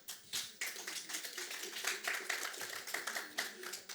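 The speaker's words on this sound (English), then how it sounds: "I'm happy that you are clapping" Audience at a dental association public conference clapping, a moderately faint, uneven patter of hands in a large hall, swelling and thinning irregularly with a few sharper nearby claps.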